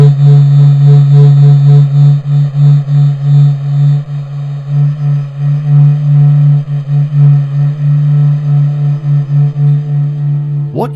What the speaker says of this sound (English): What you just heard is the heartbeat of the Sun,